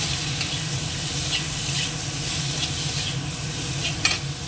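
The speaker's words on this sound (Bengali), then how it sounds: "এর মধ্যে কাঁচা লঙ্কা আর আমটা দিয়ে দিই, একটু দিয়ে দিয়ে মতো হলুদ গুঁড়ো আর নুন একটু নাড়িয়ে ভেজে নিই।" Green chili and raw mango with turmeric and salt stir-fry in hot oil, a steady close sizzle with soft spatula scrapes and one sharper clink near the end, no voices.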